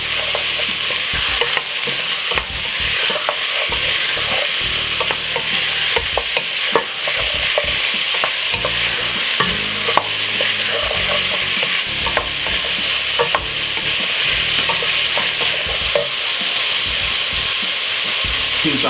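Garlic, spring onion and potato frying in a pot while being stirred, loud close sizzling broken by repeated scraping and clattering stirs, with no talking.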